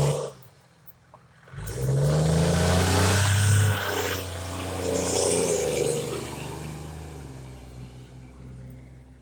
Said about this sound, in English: There goes the glorious old fire truck.